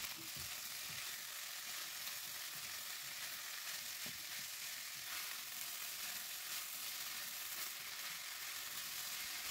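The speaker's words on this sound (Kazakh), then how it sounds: "Кейін кубиктап туралған сәбізімізді және де тәтті бұрыш немесе болгар бұрышын салып, барлығын араластырып," Diced carrots and bell pepper frying in a pan give a steady, dense sizzle throughout, with faint stirring scrapes and no talking.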